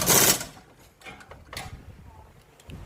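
A power tool driving stabilizer link bolts on a Honda Civic Dimension, opening with one short loud whirring burst, followed by quieter mechanical clicks and handling noises.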